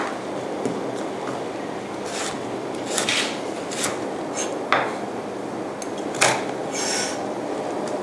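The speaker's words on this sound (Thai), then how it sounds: "เสร็จแล้วตำด้วยข่านะคะ" Lemongrass and galangal pounded in a mortar, heard as a handful of sharp, irregular knocks and scrapes at moderate loudness over a soft, steady background, with no talking.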